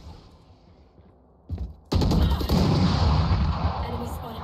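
Gunfire in the video game Valorant: quiet game ambience, a brief burst, then sustained loud rapid shots with crisp impacts from about two seconds onward. A voice may be faintly present.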